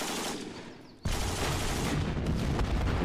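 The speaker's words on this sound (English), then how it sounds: "Hit hard by artillery." Artillery fire in the wargame Panzer Campaigns Kiev '43 starts with a sudden sharp blast, then a dense, steady roar of shelling and rattling fire that keeps up at full loudness with no speech over it.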